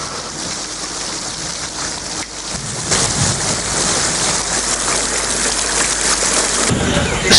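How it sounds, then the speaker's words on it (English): Heavy rain pours steadily and loudly in Puttalam, Sri Lanka, with a dense hiss that swells after a few seconds and stays intense. "Heavy rains were also experienced this evening in Putlam."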